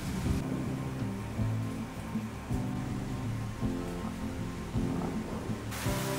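Afternoon rain in Kerala in April, a dense continuous hiss of downpour with low rumbling like distant thunder and gusting wind, no voices.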